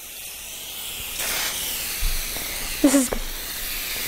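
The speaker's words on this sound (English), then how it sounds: "Gotta really spray it everywhere." Cooking spray is misted into a cake pan, heard as a soft hissing burst of about a second and a half, with people talking briefly around it.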